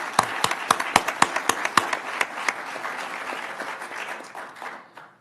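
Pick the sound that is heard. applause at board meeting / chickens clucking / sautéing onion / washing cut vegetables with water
applause at board meeting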